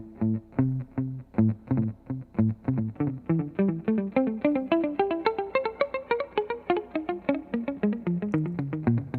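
Electric guitar with a dotted-eighth-note delay effect plays a rapid run of plucked notes, each echo falling between the picked notes so the line sounds twice as fast, clean and steady without voices.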